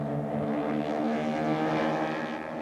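Army propeller planes roar overhead at the National Air Races in Cleveland, Ohio, a steady, loud droning engine hum with layered harmonic tones that holds throughout.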